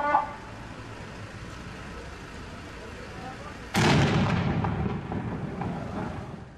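A suspicious bag is blown up in a controlled detonation by a bomb disposal team, a single sudden blast that cuts through quiet street ambience and trails off into a long rumbling echo.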